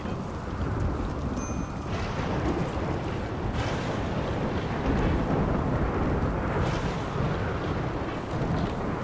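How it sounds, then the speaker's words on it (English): Steady, loud storm rumble from the video game RimWorld, a dense continuous roar of thunder and rain with no clear pauses, sustained throughout. "Quite a noisy storm."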